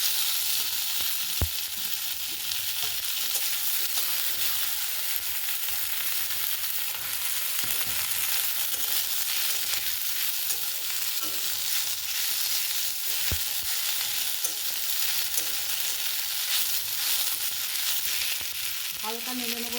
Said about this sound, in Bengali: হালকা নেড়ে নেবো শাকটা, হালকা করে নেড়ে দিয়েছি